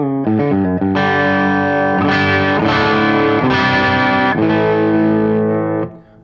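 A Washburn Parallaxe electric guitar on its high-output bridge humbucker through an amp's clean channel plays a few picked notes and then ringing chords with a slightly driven, crunchy tone, loud and close, fading out at the end.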